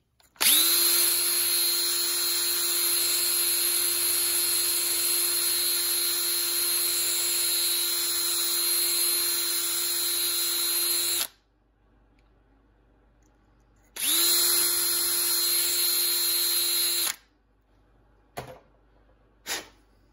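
Regular power drill fitted with a wire brush attachment whirring at a steady high pitch for about eleven seconds, stopping, then running again for a shorter burst, followed by a couple of faint clicks.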